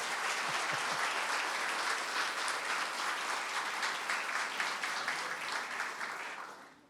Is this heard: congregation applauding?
yes